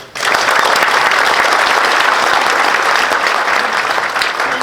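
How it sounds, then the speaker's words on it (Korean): A large audience at an international peace and security forum in Pyeongtaek applauds after a keynote speech, a loud, dense, steady roll of clapping that starts abruptly and holds throughout. "다시 한번 뜨거운 박수 부탁드리겠습니다"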